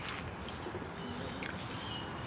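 Birds call faintly outdoors on a quiet morning, with soft pigeon coos and light chirps scattered over a steady background hiss, nobody talking.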